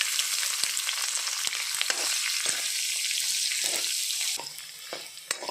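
Mustard seeds, cumin, dried and green chillies, urad dal, ginger and garlic fry in hot oil, a dense crackling sizzle with occasional pops and stirs that eases slightly toward the end.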